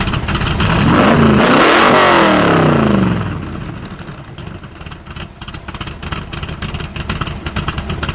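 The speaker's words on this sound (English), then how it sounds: "Give it one good rev." A Factory Five 1965 Cobra replica's V8 engine revs up hard in one loud, close rising roar, then settles into a rough, lumpy idle.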